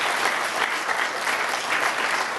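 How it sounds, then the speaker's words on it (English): Audience applause fills a cast and crew Q&A for a sci-fi film screening, a steady dense wash of clapping hands throughout, loud and continuous with no talking. "So give a round of applause."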